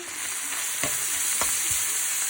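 Garlic fries in hot oil for a low-carb pancit guisado, producing a steady, close, bright sizzle with a few faint clinks from stirring, and no voices.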